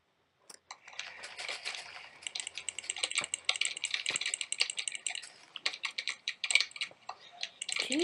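Rapid, close clicking in quick irregular bursts, like a mouse button pressed over and over, with brief pauses between flurries.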